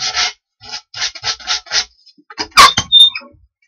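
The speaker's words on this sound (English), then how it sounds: "And then finally we sand the whole assembly." A wooden kitchen drawer front assembly is sanded by hand in a run of short, close rasping strokes, about six in quick rhythm, then a brief pause, a few harder scrubs and a sharp squeak.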